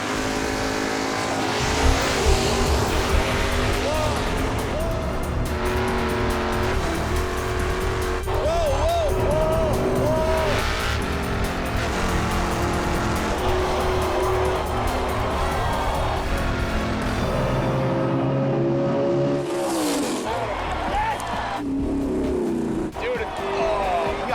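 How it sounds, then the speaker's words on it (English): Drag race cars roar down the strip at Maple Grove Raceway in a Pinks All Out final, with loud sustained engine howl and shifting revs throughout while an announcer talks over it. "Jason and Eddie swap lanes for race 2 of the Pinks All Out final."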